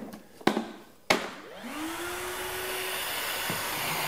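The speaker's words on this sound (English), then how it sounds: "I'm gonna kick on my vacuum here." A couple of sharp clicks, then a vacuum motor whirs up and settles into a steady, loud roar that continues to the end.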